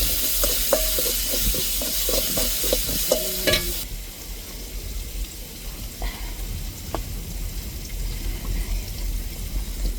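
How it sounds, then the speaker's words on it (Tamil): Garlic and green chilies frying in hot oil, a dense continuous sizzle with stirring clatter of a utensil against the pan early on, close and steady, no talking. "பூண்டு பச்சை மிளகாயெல்லாம் நல்லா எண்ணெய் சூடு வரையும் அதில் வதக்கிடுவோம்."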